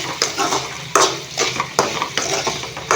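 Ivy gourd fry being stirred with chili powder and crushed garlic in a pan, a spoon scraping in repeated bursts over a steady frying sizzle.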